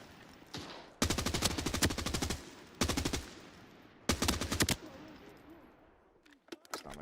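Automatic gunfire in the shooter game Arena Breakout Infinite: three sharp bursts of rapid shots, close and loud, separated by short pauses, with a couple of quick single shots near the end.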